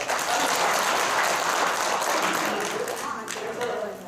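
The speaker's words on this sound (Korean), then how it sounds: "자, 박수 한번 주세요." Steady applause from an audience at a sports taping workshop for archery instructors, a dense wash of many hands clapping that holds at full strength throughout.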